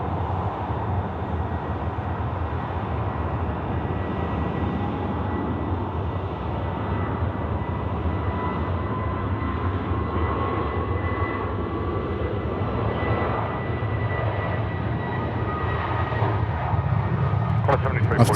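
A Boeing 737-800 jet airliner rolls on runway 16 right at Sydney Airport at night, heard from a nearby viewing mound as a steady, distant, broad roar that holds for the whole stretch.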